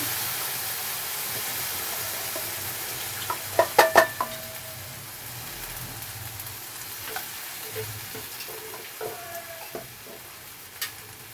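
Ingredients for a Hubballi-style fenugreek seed gravy fry and get mixed in a pan, giving a steady close sizzle with a cluster of sharp utensil clanks near the start and scattered stirring knocks after.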